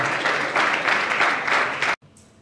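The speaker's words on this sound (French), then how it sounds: "Est-ce qu'on peut applaudir bien fort pour Linda?" An audience applauds loudly for Linda at an awards event, about two seconds of dense clapping that cuts off abruptly, leaving near silence.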